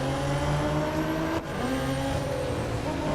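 A race car engine in the mobile racing game Real Racing 3 holds a loud, steady high drone that dips briefly as the gear shifts, then climbs again under continuous acceleration with no talking.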